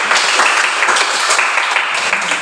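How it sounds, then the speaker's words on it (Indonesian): An audience at a school teaching-practice session in Palu applauds steadily, a dense, continuous wash of many hands clapping together with no voices over it. "Tepuk tangan untuk kita semua dulu."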